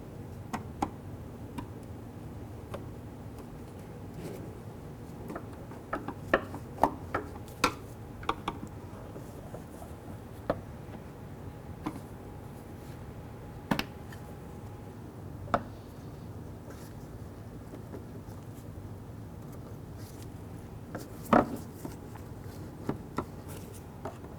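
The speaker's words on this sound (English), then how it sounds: "we're going to pop this button out here and this button down here" A trim tool pries plastic trim buttons out of a 2004-2009 Dodge Durango near the tail light, scattered faint clicks and sharp pops over a quiet background, several louder snaps near the end.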